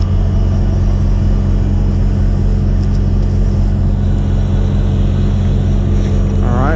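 PTO-driven pump on an oilfield production water truck running, a loud, constant low rumbling drone with engine hum, steady throughout and close by.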